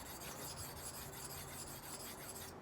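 A karambit knife blade is drawn over a round sharpening stone, making a continuous close gritty rasp with steady back-and-forth strokes and no talking.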